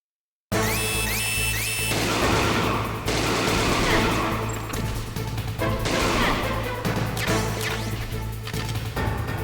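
Gunfire from the video game Metal Gear Solid: dense, continuous loud volleys of shots and crashing impacts over a steady electronic game soundtrack, near and sustained throughout.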